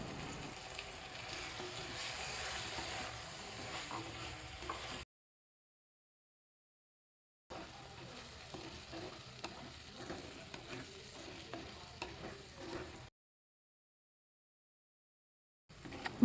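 Precooked beef tossed in a pan with sautéed onions, a steady close sizzle and scraping stir, cut by two stretches of silence before resuming briefly.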